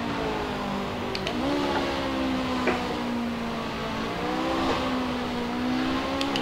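A racing car engine drones steadily while lapping the Nordschleife in a sim racing game played with a steering wheel, a sustained mid-pitched hum with slight shifts in revs and no talk.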